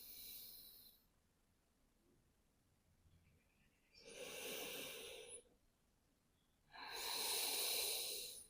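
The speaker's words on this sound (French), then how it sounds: "On ralentit le rythme de la respiration." Slow breathing during yoga rest, lying with hips toward heels: three long, soft, hissing breaths separated by several seconds of quiet, close and moderately faint, with no talking.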